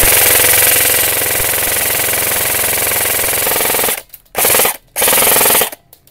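A Lancer Tactical MCA13 G2 ME airsoft rifle fires full auto in loud, rapid, buzzing bursts: one long string of about four seconds, then two short bursts separated by brief pauses.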